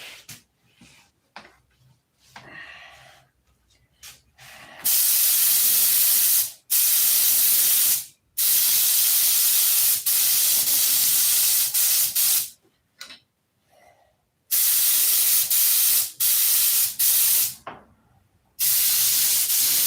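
Spray paint goes on in a second coat, heard as a series of loud hissing bursts separated by short pauses, each spray lasting about one to two seconds, close to the can.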